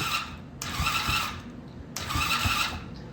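A quad's engine cranks over in two bursts of starter whir, each lasting about a second with a steady roar between them, close and fairly loud.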